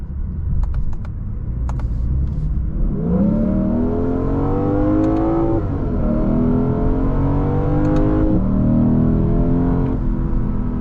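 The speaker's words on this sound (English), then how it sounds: "this has more of a typical V8 rumble" Lexus IS500 V8 revving while driving, a deep rumbling engine note climbing in pitch through a gear, dropping at a shift, then rising again under steady road noise.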